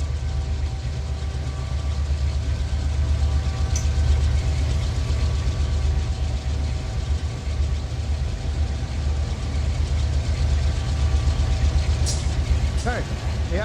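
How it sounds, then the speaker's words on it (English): Diesel locomotive rumble from an inbound AI-controlled train in the Run 8 railroad simulator, a steady low engine drone with a faint hiss running throughout under occasional speech. "Okay, AI train inbound."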